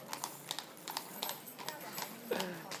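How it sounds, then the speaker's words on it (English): A horse clip-clops past at a moderate distance, its hooves striking in a steady, uneven rhythm of sharp knocks over faint background noise, with a brief voice near the end. "Just let the horse go by"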